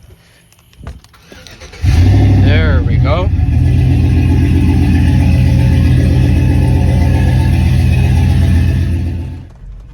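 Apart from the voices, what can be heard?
2008 Chevrolet Silverado truck engine starting and revving, stock exhaust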